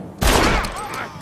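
A single loud, close gunshot from a Western-era firearm in the video game Red Dead Redemption, a sharp blast with a ringing tail that fades over about a second.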